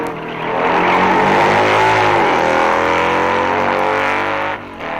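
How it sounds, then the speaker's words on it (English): A BSA sidecar outfit racing at the Isle of Man TT at Sulby Bridge: the engine note rises loud and close in a sustained roar, its pitch dropping slightly as it passes and fades away. "First, Chris Vincent's BSA at Sulby Bridge."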